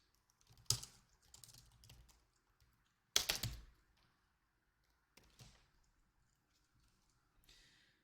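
Bursts of typing on a computer keyboard, quiet clustered key clicks in short runs separated by pauses, with two sharper louder strikes, close and alone.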